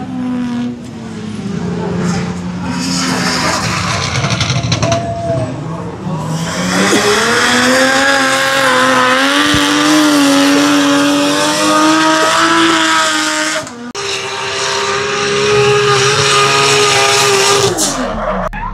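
A drift car slides at a drift day in Megara, tires squealing in long wavering screeches over a loud, revving engine, with short breaks between runs; close and very loud throughout.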